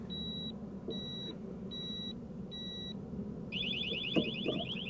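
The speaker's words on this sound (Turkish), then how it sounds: "Uyarı verdi alarm çalacak şimdi." A Cranns VD14 motorcycle disc lock gives four evenly spaced high-pitched warning beeps, followed by a faster, continuous warbling alarm tone over low background rumble.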